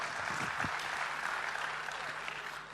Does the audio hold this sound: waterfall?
no